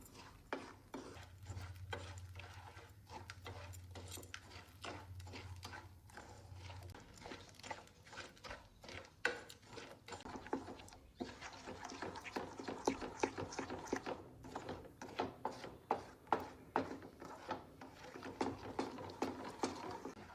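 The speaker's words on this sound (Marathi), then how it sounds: "आपल्याला ही साखर हलवत राहायची आहे, हलक्या हाताने मेल्ट करून घ्यायची आहे." Sugar being stirred in a pan as it melts for butterscotch, soft repeated scraping and rubbing strokes close by, quiet and rhythmic, growing busier toward the end.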